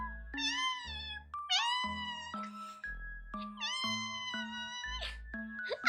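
A human voice imitates a cat meowing, producing a string of drawn-out, rising and falling meows with strong harmonics, loud and close, one after another with brief pauses, alone without other speech.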